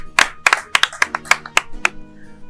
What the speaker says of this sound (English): A round of applause for the bride.